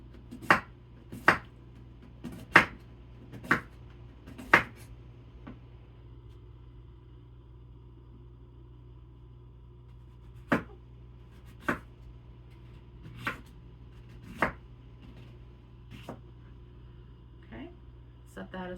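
A knife cuts food into slices on a cutting board for a beef stroganoff, a series of crisp close chops in two bursts separated by a pause, over a low steady background hum.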